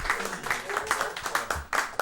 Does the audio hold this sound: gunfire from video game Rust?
no